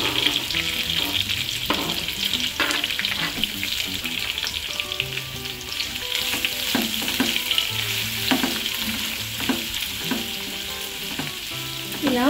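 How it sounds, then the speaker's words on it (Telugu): Onions and green chillies fry in a pan for Andhra hotel-style poori curry, a loud continuous sizzle up close, broken by repeated scraping and stirring clatters of a spatula. "ఇలా ఒక 2 నిమిషాలు ఫ్రై చేసుకోవాలి"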